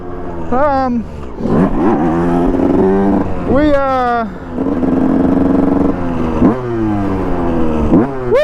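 A two-stroke dirt bike engine revs hard and close, rising and falling through several loud throttle blips in a row, with a rider talking over it.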